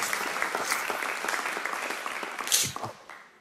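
An audience applauds together at a church gathering, with steady, dense clapping that stays loud throughout and fades slightly at the end.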